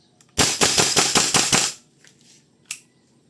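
WE M4 V3 airsoft rifle with a steel trigger firing BBs, a rapid burst of about six sharp mechanical cracks in quick succession, followed by a single fainter click a second later.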